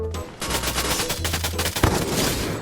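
Rapid gunfire in the Free Fire video game, a loud burst of closely spaced shots rattling in quick succession with a heavier boom partway through, no talk over it.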